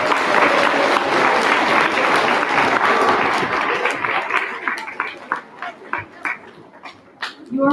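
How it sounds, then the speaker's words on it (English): A spelling bee audience applauds a speller after an incorrect answer: loud, dense clapping for several seconds that thins into scattered individual claps near the end. "Let's give our speller a round of applause."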